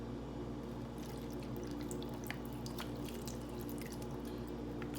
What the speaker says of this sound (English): So I'm going to pour my water in here.